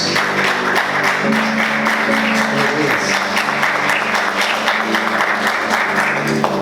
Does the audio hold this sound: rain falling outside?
no